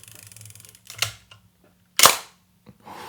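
A well-kept mechanical film camera fires its shutter again, with a small click followed a second later by a crisp, louder shutter snap heard close up and alone.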